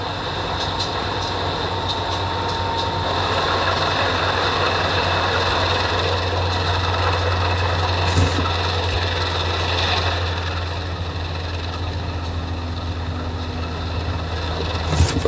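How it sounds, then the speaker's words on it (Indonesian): The Sriwedari train pulls out of Tanjung Priok station bound for Bekasi, a steady rumbling drone of engine and rolling wagons that holds for the whole stretch, with a brief sharper burst partway through. "Sriwe berangkat dari stasiun Tanjung Priok tujuan akhir stasiun Bekasi"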